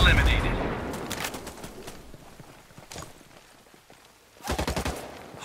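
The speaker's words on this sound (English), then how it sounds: "Hostiles are firing." Enemy gunfire in the tactical shooter Ghost Recon Breakpoint: scattered sharp shots early on, a few isolated cracks in the middle, then a quick rapid burst near the end, fairly loud against a quieter stretch of game ambience.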